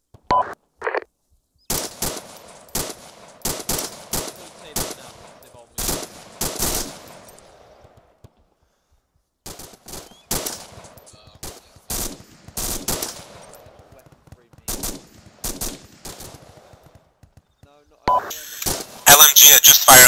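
Light machine gun bursts in the ArmA 2 military game, sounding as repeated rapid volleys of sharp shots with short pauses between, loud and close, with radio chatter and other battlefield noise toward the end.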